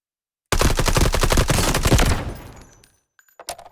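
Loud, close rapid-fire automatic gunfire in the Delta Force extraction shooter, a dense burst of roughly twenty shots lasting about two seconds before trailing off, followed by a few faint clicks and thuds.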